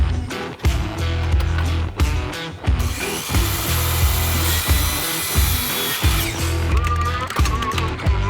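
Miter saw cutting 2x4 lumber to 35 inches: repeated loud cutting passes with a whining blade and rough wood bite, separated by short gaps, close and busy throughout.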